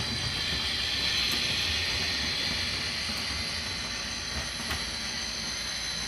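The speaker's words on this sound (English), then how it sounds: "I'll let this train run around one more time." Model train running on a layout track, a faint, steady rolling hum with a thin high whine and a couple of soft clicks from the rails, continuous for several seconds with no talk.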